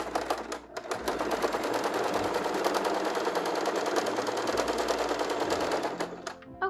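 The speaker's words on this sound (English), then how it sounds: "On my machine, this is stitch number 14." A sewing machine runs steadily for several seconds, stitching a feather stitch on knit fabric with a dense, rapid mechanical chatter at close range, then slows and stops near the end.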